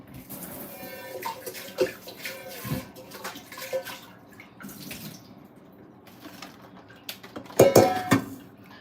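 Food being washed by hand in water in a pot before cooking, with sloshing, splashing and occasional clinks of cookware, louder near the end.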